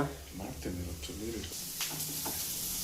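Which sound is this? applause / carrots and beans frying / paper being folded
carrots and beans frying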